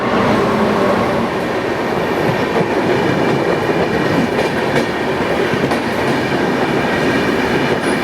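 The Vidarbha Express, train 12106, rolls along the rails out of Manmad Junction as a loud, continuous close rumble with faint rhythmic clatter of wheels over joints.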